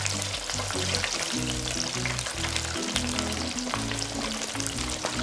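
Chicken crackling and sizzling steadily as it deep-fries in hot oil, a dense, continuous bubbling fry with no voices.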